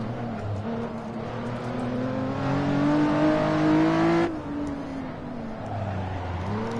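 Lotus Exige V6 Cup car lapping Silverstone in Assetto Corsa, its engine droning steadily and rising in pitch through a gear, then dropping sharply at a shift before building again, heard alone without talk.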